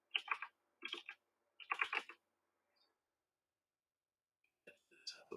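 Keys clatter on a computer keyboard as a terminal command is typed on Debian 12: close, crisp bursts of rapid clicks separated by a long quiet pause, then another short flurry.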